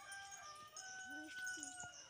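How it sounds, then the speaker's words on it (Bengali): Chicken calling outdoors on a sunny morning walk, with a couple of short clucking calls rising over steady background birdsong and ambient noise. "মুরগি ডাকছে, চলো।"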